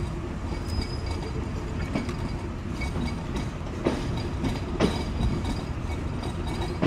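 Intercity Sundarban Express pulling out of Mobarakganj railway station, a steady loud rumble of wheels and carriages with periodic clacks at rail joints and no voices.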